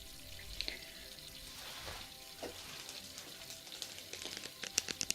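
Water running at a salon sink to rinse shampoo from hair, a soft, close splashing flow with light rustling and dripping, fairly quiet and without talk.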